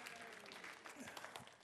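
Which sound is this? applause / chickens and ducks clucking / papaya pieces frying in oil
applause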